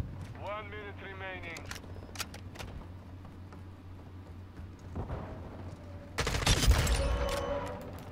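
Call of Duty gunfire with a 556 Icarus or TAQ 56 rifle: scattered shots and a burst of rapid fire near the end, heard amid game noise with a voice talking over it.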